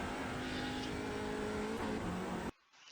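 Audi TCR race car in iRacing at the Nürburgring, engine pulling hard at full throttle with a rising whine, then cutting off abruptly near the end, close and loud.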